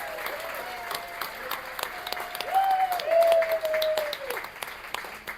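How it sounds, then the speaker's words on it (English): An audience at an anniversary literary reading night applauds in a sustained wash of clapping that swells in the middle, with faint whoops and voices mixed into the crowd. "let's have one more round of applause for everyone who had the best tonight"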